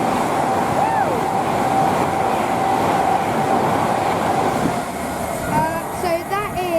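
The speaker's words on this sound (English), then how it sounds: "Okay, we have a 390. From Manchester Piccadilly to London Euston." A Class 390 electric train running from Manchester Piccadilly to London Euston passes on the West Coast Main Line at Rugby, a loud sustained rushing roar with tonal whines, easing slightly near the end.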